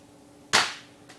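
A single sharp gunshot effect cracks out close and loud, with a short decaying tail and a faint second snap just after, standing alone over a quiet background.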